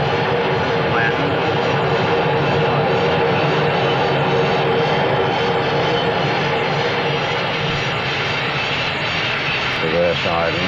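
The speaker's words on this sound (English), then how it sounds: "A perfect landing in thick fog." A Trident jet airliner comes in to land in thick fog, its engines making a loud, steady roar that holds unbroken throughout.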